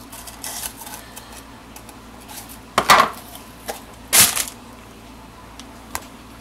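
A knife cuts out the insides of bell peppers, with scattered light taps and clicks and two louder knocks against a cutting board, close and otherwise quiet.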